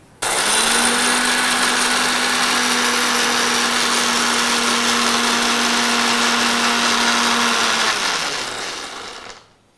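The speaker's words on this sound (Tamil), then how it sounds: "முதலில் பருப்பை போட்டு சுற்றி சிறிதளவு அரைத்தவுடன் வெங்காயத்தை அப்புறம் கலக்கலாம்" A grinder grinds lentils with a loud, steady motor whine that holds for about eight seconds, then winds down and stops. Nobody speaks.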